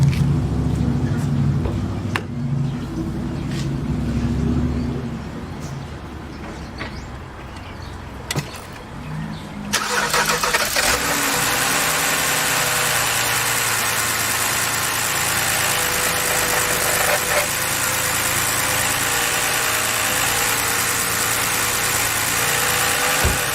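A 2007 BMW 328xi E90 with a stalling fault cranks and starts, then settles into a steady broadband idle for over ten seconds after quieter ticking and movement beforehand.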